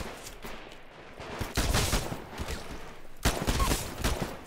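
Assault pistol fire in Titanfall: a few sharp, close gunshot bursts ring out, with the two loudest shots spaced a couple of seconds apart over a low background of battle noise.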